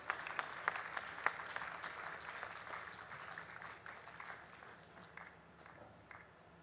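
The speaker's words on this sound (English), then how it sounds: "A big round of applause" An audience at a formal ceremony keeps clapping, a dense, even wash of many hands that slowly thins and fades toward the end.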